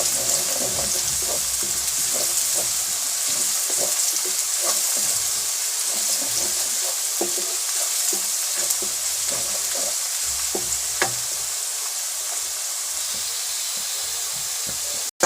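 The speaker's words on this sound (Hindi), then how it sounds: "एक से 2 मिनट तक इसको फ्राई करेंगे" Potatoes and onions frying in a karahi for aloo karahi, a continuous loud sizzle with stirring scrapes and faint clinks running steadily throughout.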